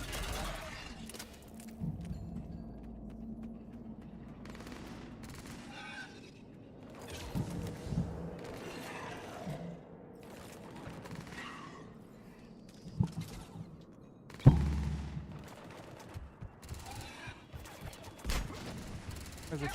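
Scattered gunfire bursts in the video game Mass Effect 3, mid-distance and uneven, with intermittent louder shots over a low rumbling battle backdrop and occasional voices.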